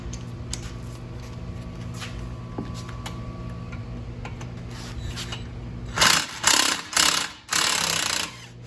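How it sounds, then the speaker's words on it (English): Tool removing two 17 mm caliper bracket bolts on a Honda Civic front brake, light ticking at first, then several loud close bursts of rattling mechanical noise near the end. "next, we're going to remove the 2 17 millimeter bolts."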